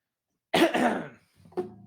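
A single close, sharp cough from a person with COVID, followed a moment later by a softer throat-clearing sound, in otherwise quiet surroundings.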